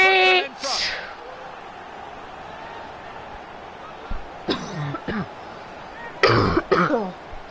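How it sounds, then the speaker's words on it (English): Several harsh coughs and throat-clearing bursts from a person with a bad cough, close and loud, arrive in clusters at the start and again toward the end over a quiet background. "I've got a really bad cough."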